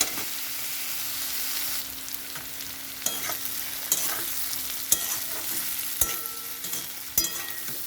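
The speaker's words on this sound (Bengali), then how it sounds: "আলুকপিটা খুব ভালো করে ভাজতে হবে" Potato and cauliflower frying in a pan, a continuous close sizzle broken by repeated scraping stirs and clacks against the pan, with no talk.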